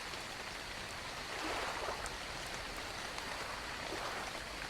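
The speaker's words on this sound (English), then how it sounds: "I'm about sick of this rain." Steady rainfall in the video game Ark Survival, a dense, even hiss of drops that holds from start to end with no voices over it.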